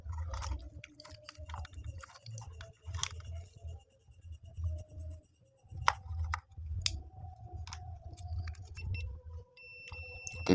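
A digital multimeter in continuity mode tests a light switch, giving short high electronic beeps over faint handling clicks and a low background hum, with no talking.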